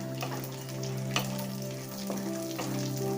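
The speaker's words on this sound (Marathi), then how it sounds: "असं 2 मिनिट हलवून घ्यायचं, फ्राय करायचं। आता याच्यामध्ये हे मटारचे दाणे घालायचे" Green peas frying and being stirred in a pan for pulao, a steady close sizzle with occasional scraping stirs, no talk.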